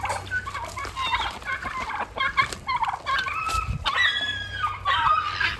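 Farm chickens cluck and squawk busily, close and overlapping, as they gather for food when a feeding bowl appears, with a few brief voices mixed in.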